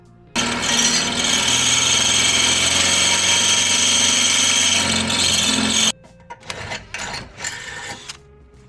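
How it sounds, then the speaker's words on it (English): A power drill whines loudly and steadily for several seconds while drilling holes for a Mazda MX-5 NC carbon fibre splitter, then stops, followed by a few short bursts and clattering handling noises. "So I'll drill them out."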